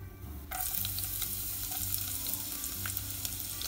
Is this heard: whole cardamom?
yes